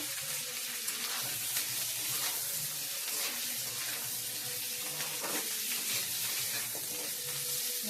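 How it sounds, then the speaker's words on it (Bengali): Potatoes frying with onions in a pan for khichuri, a continuous close sizzle and hiss of oil with faint clinks, no talk over it. "এখন দিয়ে দেবো পেঁয়াজ ভাজার মধ্যে আলু দেবো"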